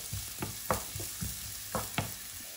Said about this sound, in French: Une fois que l'huile est chaude, donc je viens mettre les morceaux de carotte.